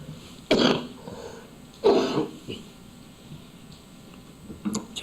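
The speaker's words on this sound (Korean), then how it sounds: "제가 능력 이야기하면서 계속 기침을 하니까 좀 이상하네요" Someone speaking during a church sermon gives two sharp, harsh coughs close to the microphone, a second apart, and a fainter throat sound follows near the end.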